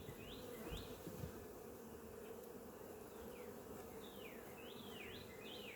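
Honeybees buzz around an open beehive, a dense continuous drone close by with scattered faint chirps over the hum.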